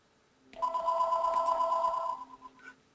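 Phone notification tone chiming as a screenshot arrives, one clear electronic ring lasting about a second and a half at moderate volume in a quiet room, with a short trailing blip afterward.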